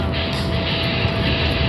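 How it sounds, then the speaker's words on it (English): Airplane engine in a motorcycle video game, a steady loud droning roar that holds evenly throughout with no speech over it. "You can go in the plane."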